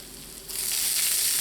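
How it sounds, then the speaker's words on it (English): Garlic in extra virgin olive oil sizzles in a pan, a bright crackling fry that swells suddenly louder partway through and then holds steady, close and alone. "extra virgin olive oil. You got to have some of that. Garlic. Starting to brown."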